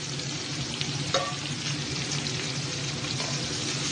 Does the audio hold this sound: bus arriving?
no